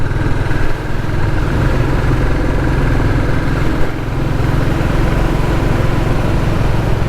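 Royal Enfield Classic 350 motorcycle on a ride, engine drone steady and close, pulling through the gears with a constant low throb and a slight dip partway through.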